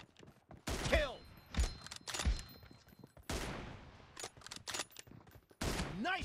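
Several sharp, loud gunshot bursts from PUBG Mobile, in short staccato volleys with pauses between them, close and punchy.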